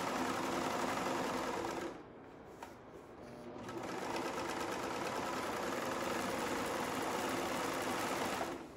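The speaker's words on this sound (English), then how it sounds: "we're going to make sure that we serge down to the edge" A serger overlock machine sews necktape to a front bodice, running in a fast close mechanical whir with a brief pause, then resuming steadily before stopping.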